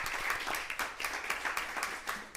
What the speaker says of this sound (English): please give a round of applause one more time